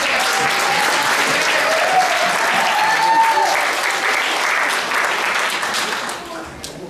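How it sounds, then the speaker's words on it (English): Audience at a campus musical production applauds loudly and steadily after a song, a dense clapping that stays strong and then starts to thin toward the end. "Another round of applause for the"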